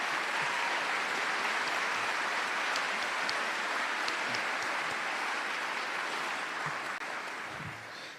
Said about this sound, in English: So can you give them another round of applause, please?